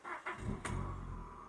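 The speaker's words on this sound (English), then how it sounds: "I'm just going to show you guys what happens when you switch the engine on." A car engine is switched on: a brief starter crank, then the engine catches and settles into a steady low idle, close and alone.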